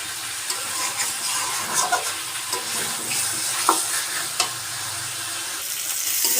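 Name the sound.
stir-frying turnip with spiced shrimp in a pan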